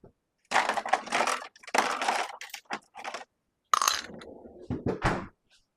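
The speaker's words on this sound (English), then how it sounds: "Also going to get a few ice cubes." Ice cubes clinking in a home kitchen while sourdough bread is prepared for baking in Dutch ovens: close, irregular bursts of hard clinks and rattles separated by short silences.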